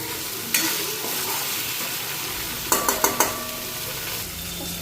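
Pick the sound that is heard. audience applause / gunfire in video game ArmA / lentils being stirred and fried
lentils being stirred and fried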